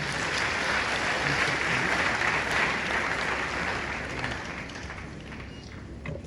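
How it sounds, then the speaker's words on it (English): An audience claps for a choir at a launch event with dignitaries arriving. Loud, sustained applause from a large crowd rolls on for several seconds, then gradually thins and fades toward the end. "let's give them a hand of applause."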